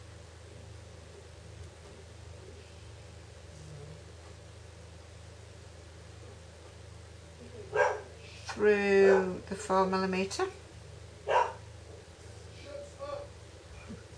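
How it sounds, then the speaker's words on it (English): A pet dog barks indoors in a cluster of sharp, fairly close barks partway through, while a person talks quietly and steadily over a low room hum. "my dog barking"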